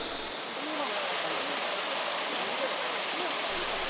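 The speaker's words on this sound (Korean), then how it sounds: "살수장치가 필사적으로 저지선을 구축합니다." Water spraying devices shooting river water across the algae-choked Nakdong River to hold back a green algae bloom, heard as a steady, dense rushing hiss of falling spray, continuous and fairly loud throughout.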